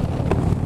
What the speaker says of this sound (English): Dude, it's really windy.